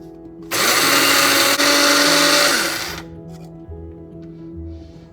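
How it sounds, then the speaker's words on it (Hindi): A kitchen mixer grinder coarsely grinds fenugreek seeds, whole coriander and fennel seeds in one loud, steady burst of about two and a half seconds, winding down into a quieter motor hum. "दाना मेथी लेंगे, साबुत धनिया लेंगे, ये सौंफ लिया मैंने और इसको मोटा मोटा ग्राइंड कर लेंगे"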